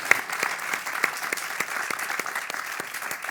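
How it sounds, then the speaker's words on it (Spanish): Steady audience applause at a Spanish cultural talk event, many hands clapping in a dense, even patter with a few sharper individual claps standing out, continuing throughout. "me adhiero a ese aplauso"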